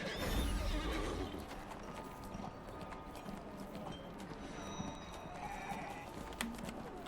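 A horse whinnies over steady clip-clopping hooves in the video game Neverwinter, set against a dense, busy background with no talking.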